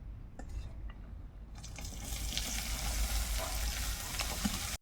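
Bay leaf and finely chopped onion fry gently in a pan for palak paneer, a soft steady sizzle that builds and brightens after a couple of seconds, with faint scraping of a spoon and no voices.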